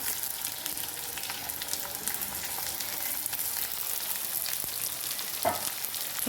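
Thinly sliced onion fries in oil with potatoes, a soft, steady sizzle of moderate level and an occasional faint clink of a utensil, with no voices.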